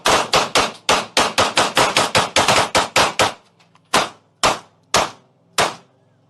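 Gunfire sprayed at a dead alligator: a rapid burst of about a dozen loud, sharp shots in quick succession, followed after a brief pause by four slower, evenly spaced single shots, close and with no talking.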